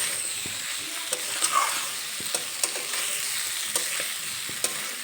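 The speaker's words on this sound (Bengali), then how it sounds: "এখন একটু নেড়ে চেড়ে নেব। কাঁকরোল মশলার সঙ্গে খুব ভালোভাবে মিশিয়ে নেব।" Teasel gourd (kakrol) being stirred with spices in a hot pan: a steady low sizzle with sharp scraping clicks from the spatula every second or so, close and moderately loud, no voices.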